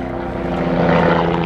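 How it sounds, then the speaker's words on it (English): A helicopter passing over a rocky cove on the Spanish coast at Cala Charco, a steady droning engine hum with rotor buzz, fairly loud and gradually building. "helicopter,"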